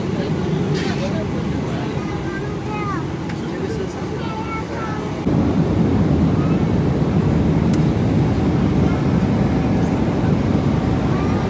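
Steady broadband roar of an airplane cabin on an 11-hour flight to Chicago. The drone swells slightly partway through, and a person talks over it.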